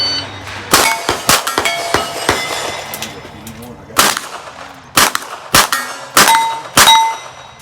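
Rimfire pistol rounds strike steel target plates at a Steel Challenge match, each hit ringing as a sharp metallic clang; about ten irregularly spaced impacts of varying loudness, some near and some far, with faint talk between them.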